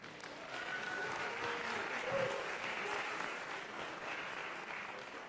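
An audience applauds to welcome panel speakers at a CPAC summit on human trafficking, steady sustained clapping from a large crowd, moderately distant, filling the whole stretch.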